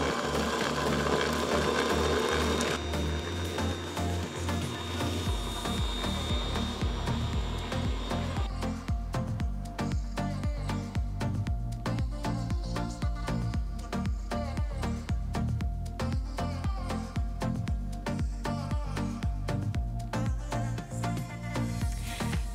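An Ankarsrum Assistent Origin mixer whisks egg and sugar at medium speed, a continuous mechanical whir with a rhythmic rattling texture that shifts pitch as the speed is raised, steady and fairly loud throughout.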